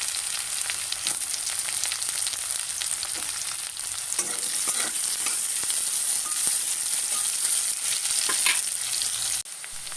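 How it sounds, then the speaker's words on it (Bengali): Potato pieces and onion frying together in a pan, a dense continuous sizzle with crackles and scraping stirs, close and steady, with a brief dip near the end. "পেঁয়াজটা হালকা ভাজা হতে আলুটা দিয়ে দিলাম আলুটা একটু ভাজবো"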